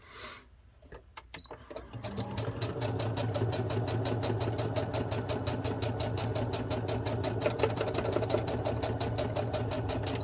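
Sewing machine running a steady stitch through paper moved about for a wavy line, a fast even needle rattle starting after a few brief clicks and continuing loud and close throughout.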